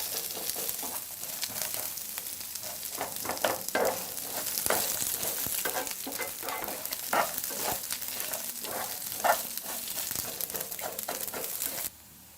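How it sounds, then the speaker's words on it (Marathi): Onion, garlic and masala sizzle steadily in a hot pan while being stirred for Kolhapuri misal, with a continuous close frying hiss and intermittent scraping strokes of the spoon, fairly quiet and without talk. "आता हा कांदा चांगला ब्राऊन होईपर्यंत आपल्याला हा मसाला परतत राहायचा."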